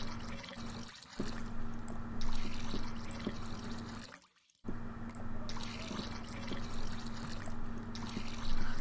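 Liquid poured into a huge oil barrel in the game Wurm Unlimited, a continuous trickling pour that stops briefly partway through and then resumes at the same level.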